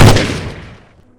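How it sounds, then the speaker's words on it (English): A single loud gunshot blast rings out inside a lab and decays into a fading reverberant tail over about a second. "The gunshot was final, absolute."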